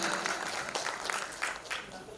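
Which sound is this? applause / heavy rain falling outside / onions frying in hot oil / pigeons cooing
applause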